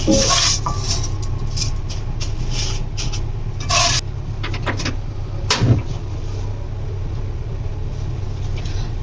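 Fried vermicelli (semai) is lifted out of a pan with a utensil, giving close scrapes, rubs and metallic clinks in short bursts over a steady low background hum.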